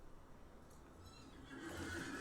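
A horse in the video game Lord of the Rings Online whinnies quietly near the end over a low, steady background hum.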